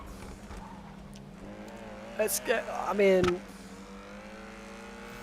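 Argento car engine in GTA 5, a steady hum rising into a brief loud rev burst mid-clip, with someone talking over it.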